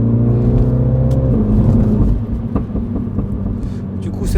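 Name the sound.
Mini JCW car engine revving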